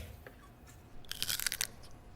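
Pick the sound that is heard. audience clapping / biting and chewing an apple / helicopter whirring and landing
biting and chewing an apple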